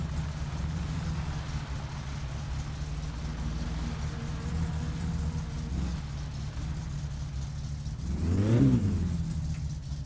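Car engine in the My Summer Car driving game idling with a steady low hum, then a short rev swells and falls back near the end; no talk over it.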